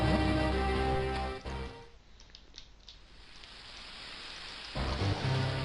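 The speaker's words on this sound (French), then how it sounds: "Mais là-dedans, cette pluie est un vrai bombardement." Rain falls in the game Zelda: The Minish Cap, a soft, steady patter with a faint watery hiss. Tonal game music plays over it at the start and comes back near the end.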